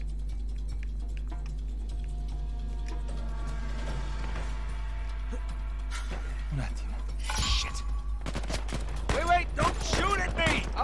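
Video game gunfire aimed at the player, a burst of sharp shots cutting in near the end over a steady hum and ticking game ambience.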